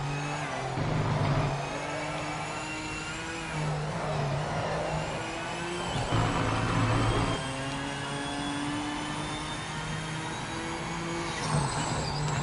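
A Toyota Supra GT4 race car in a racing video game at Lime Rock Park drones steadily, its engine pitch climbing and dropping repeatedly as it shifts through the gears, loud and continuous with no talk.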